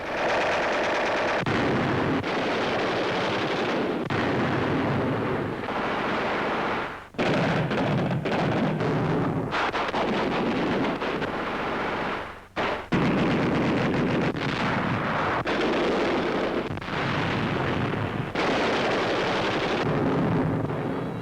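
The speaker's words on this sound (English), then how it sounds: "With field mortars and Tommy guns, they blast away at the slightest sound." Continuous heavy gunfire and booming blasts from field mortars and Tommy submachine guns in New Guinea, 1942, rapid automatic bursts mixed with explosions, loud and dense throughout with only brief breaks.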